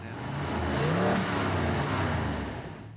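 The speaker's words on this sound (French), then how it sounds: "Le son des 3 carburateurs quand ils sont grands ouverts." A car engine with three carburetors wide open revs up hard with a rising roar, holds loud for a moment, then eases back as the note falls away.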